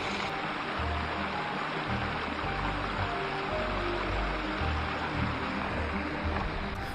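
A waterfall on the La Cloche Silhouette Trail gives off a steady, broad rushing roar that holds constant throughout, with deeper low rumbles swelling and fading underneath.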